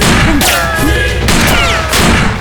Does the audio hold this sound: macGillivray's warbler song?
no